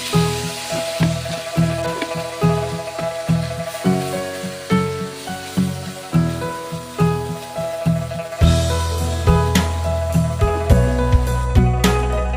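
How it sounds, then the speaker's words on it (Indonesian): Ground spice paste for chicken opor sizzles and spatters in hot oil, sautéed in a pan with steady crackling and rhythmic stirring scrapes; the frying grows louder and fuller partway through, and no one speaks. "Kemudian tumis bumbu. Ini bumbu yang tadi di awal kita buat ya."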